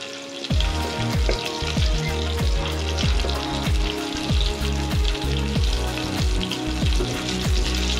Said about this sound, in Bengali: প্রথমে দেব 2টো চেরা কাঁচা শুকনো লঙ্কা, একটু ভেজে নিয়ে এর মধ্যে অল্প কালো জিরে দিয়ে দেব